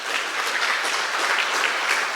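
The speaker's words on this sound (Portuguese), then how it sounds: "Vamos dar uma salva de palmas para o Senhor?" Church congregation gives a round of applause, continuous even clapping filling the room at moderate loudness with no one speaking over it.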